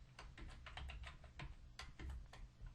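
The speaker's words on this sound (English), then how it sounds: "I'm going to type in the word news in quotes" Quiet typing on a computer keyboard during work in Adobe Flash CS5: a quick run of separate key clicks, some grouped into short flurries, close by and with no talk.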